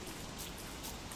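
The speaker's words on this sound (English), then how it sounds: "Oh no, it's raining." Rain falls steadily in the survival video game Don't Starve, a dense, even hiss with no gaps and no talking.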